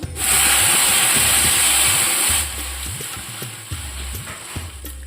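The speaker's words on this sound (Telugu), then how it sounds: "తాలింపులో రసం పోసేసుకుందాము." Rasam is poured into a sizzling tempering of mustard seeds, chilli, asafoetida and curry leaves, giving a loud burst of hissing steam at first that settles into a softer bubbling sizzle with faint knocks of a pan.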